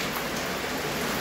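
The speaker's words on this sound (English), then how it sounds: "Thank you, Lord, for making the rain fall." Steady rain falls in Jamaica, a dense, even hiss of drops on surfaces that holds at a constant moderate level with no voices.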